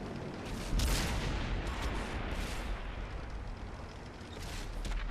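Tank cannon fire in World of Tanks on Xbox One, a heavy boom echoing near the start and then rumbling gunfire and distant blasts from the battlefield, dense and continuous with no voices.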